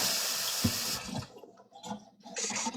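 Tap water runs steadily into a kitchen sink as soapy washed dishes are rinsed, a continuous hiss that breaks off midway and returns in uneven bursts with light clatter.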